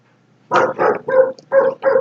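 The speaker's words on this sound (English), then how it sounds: "I hear the dog barking too" A dog barks five times in quick succession, loud and close, with brief gaps between each bark.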